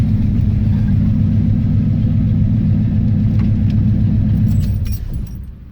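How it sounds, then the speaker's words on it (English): A V8 car engine fed through a lawn mower carburetor idles with a loud, steady low rumble, dropping off near the end, with faint clinks on top and no talk. "Just driving a lawnmower carburetor."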